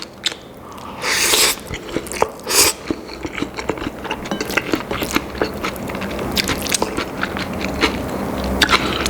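Crisp, close crunching and biting of fresh, lightly underripe geotjeori kimchi made with young cabbage, loud repeated crunches in irregular rhythm with no talk.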